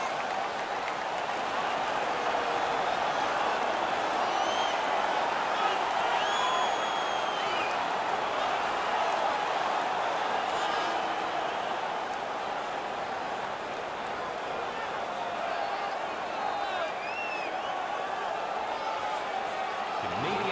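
A steady, roaring arena crowd cheers throughout an NHL 19 hockey game between the Winnipeg Jets and Montreal Canadiens after a Montreal player wins a fight, with a commentator talking over the sustained noise.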